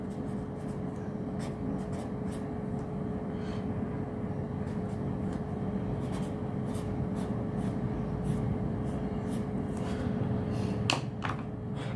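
Pen strokes on paper scratch and tick near the microphone as notes are written out for an accounting lesson, soft irregular marks over a constant background hum, without talk.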